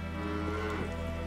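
A cow in the video game Witcher 3 gives a single drawn-out moo, close and clear, over a faint ambient music bed.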